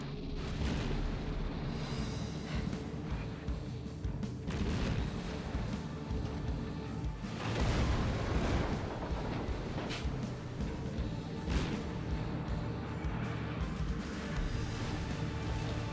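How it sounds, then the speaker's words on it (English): Naval gunfire in a long-range duel between a destroyer and a cruiser in World of Warships, heard as a dense, continuous rumble of booming shots and distant explosions throughout, with no talk. "Long-range gunnery duel with a cruiser in a destroyer"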